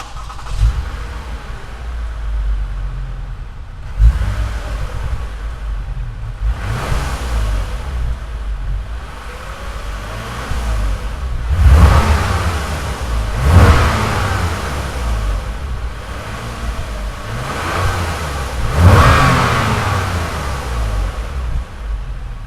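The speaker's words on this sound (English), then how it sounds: "let's have a quick listen to the exhaust note" A naturally aspirated V6 car's exhaust note: the engine is blipped repeatedly, producing a series of loud, close revs that rise and fall, with a steady idle between bursts and no voices.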